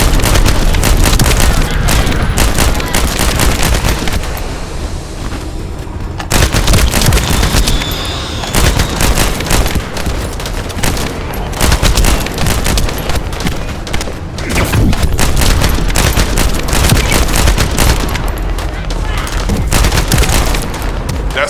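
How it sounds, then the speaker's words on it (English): Heavy, continuous gunfire with rapid bursts and booming thuds, loud and dense throughout with brief lulls, set against the soundtrack of the game The First Descendant. "That stopped the gunfire."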